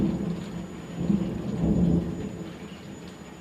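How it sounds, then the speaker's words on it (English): Low, rolling thunder rumbles continuously with a swell in the middle, accompanied by steady rain in the background. "I hope you can hear that thunder."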